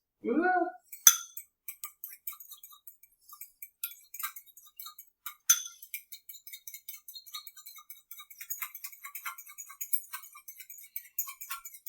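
Two eggs whisked with a fork in a bowl, a quick run of light metallic clinks and ticks in irregular rhythm, close and fairly faint, after a brief voice at the start.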